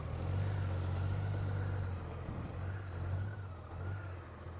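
A motorcycle on a brake-practice course runs with a steady low engine drone and a faint, shifting tone that dips and returns as it rides out, heard at a moderate distance with no speech.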